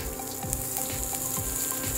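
Two medium finely chopped onions sauté in a pan over medium heat, turning translucent, with a continuous close sizzle and occasional stirring knocks. No one speaks.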